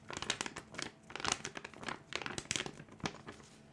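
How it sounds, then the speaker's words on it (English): Sheet of paper crinkled close to a microphone, a run of dense crackling bursts with short pauses between them, no voices. "Let's see if I have a piece of paper to crinkle."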